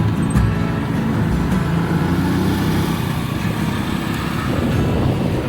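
A motorbike rides along a road, its engine a steady, close, continuous drone mixed with broadband road and traffic rumble throughout.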